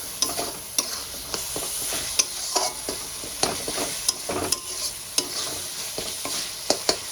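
Ground spices fry in oil in a pan with a little water added, giving a steady sizzle punctuated by regular sharp clacks of a spatula stirring, close and without talk.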